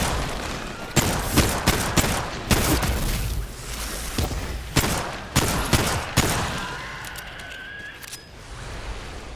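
Semi-automatic gunfire in the video game Remnant 2: a steady run of about a dozen loud, sharp single shots at uneven intervals, with a fainter rising tone near the end.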